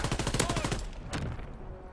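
Shotgun fire in Call of Duty, a rapid burst of loud blasts in the first second with game noise trailing off afterward, close and dense.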